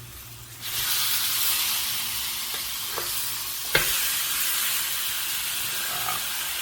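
Food sizzling in a hot pan right after being flipped, a sudden rise into a steady, close frying hiss with a few faint clicks and pops.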